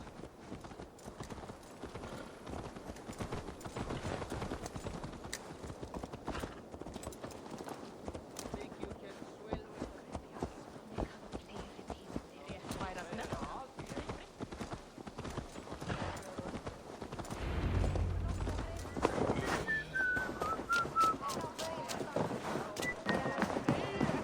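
A horse's hooves clip-clop steadily in Assassin's Creed Valhalla, a continuous rhythmic trot running close and even throughout, with game ambience and a denser rumble near the end.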